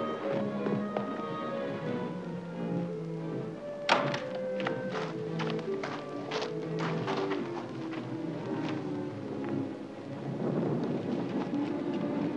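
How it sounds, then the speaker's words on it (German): Thunder from a thunderstorm in a 1952 film, with sharp thunks and cracks breaking over a steady rumbling wash and underlying music, one loud strike standing out near the start and rolling on afterward. "Fräulein werden ins Gewitter kommen."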